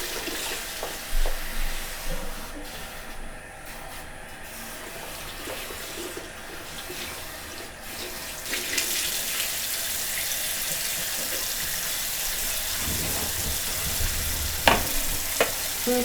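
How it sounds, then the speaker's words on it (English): Water splashes and swishes continuously as a head of long curly afro hair is dunked underwater, a steady wet rushing that grows louder partway through, with a few sharp splashes near the end and no voices. "I'm going to just put my whole head underwater"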